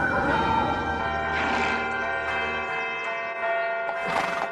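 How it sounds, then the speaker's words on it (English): Several church bells ring together in a continuous, resonant peal with overlapping strikes, fairly loud and sustained throughout. "Major Pitcairn, what do you make of all these bells"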